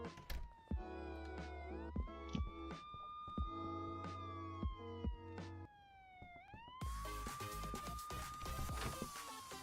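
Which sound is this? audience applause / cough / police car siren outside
police car siren outside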